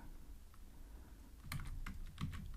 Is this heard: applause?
no